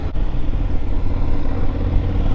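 Aprilia Tuareg 660 motorcycle being ridden, its engine giving a steady, fairly loud low rumble mixed with road noise throughout, with no talking.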